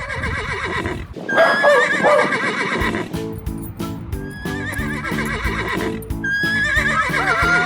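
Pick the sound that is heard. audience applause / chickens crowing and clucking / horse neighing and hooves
horse neighing and hooves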